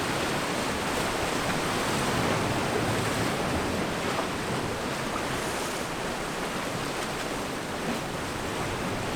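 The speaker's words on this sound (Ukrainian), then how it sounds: "можу годинами стояти і дивитися, як хвилі б'ються об берег" Steady roar of ocean surf breaking on a shore, a continuous wash of noise with some wind, fairly loud and unbroken throughout.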